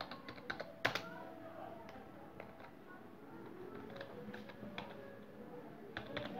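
Quick, quiet clicking of computer keyboard keys as an institute name is typed, irregular taps with a few louder strikes over a low room background.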